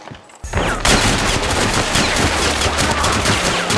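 Rapid automatic gunfire in a multiplayer shooter video game, a loud sustained burst of overlapping shots starting after a brief quieter moment and continuing dense and close throughout.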